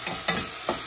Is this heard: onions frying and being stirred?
yes